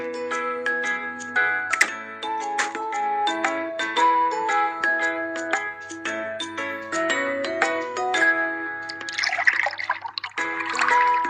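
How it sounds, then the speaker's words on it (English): Liquid pours into a car's tank in a cartoon repair game for children, bubbly watery pouring sounds set against cheerful plinking game music, with ticking notes and sparkle effects near the end. "Pour liquid into the correct tank."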